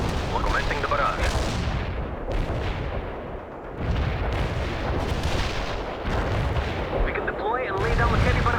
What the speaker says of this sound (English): We're commencing the barrage.